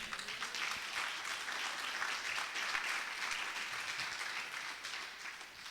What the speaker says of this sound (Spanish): Podemos dar una ofrenda de palmas